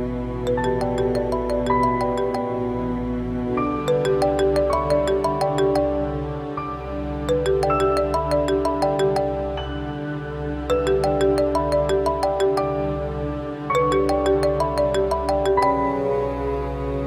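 Phone ringtone ringing unanswered, a looping electronic melody repeating in bursts of roughly three seconds with short pauses between, loud and close with no voices.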